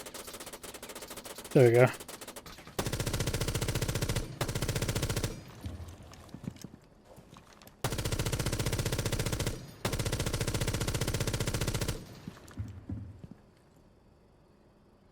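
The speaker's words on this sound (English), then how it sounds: "just kind of aim at a wall, you can shoot infinitely" Rapid automatic gunfire in Rainbow Six Siege X, fired at a wall in long sustained bursts with short pauses between them. A voice speaks briefly between bursts.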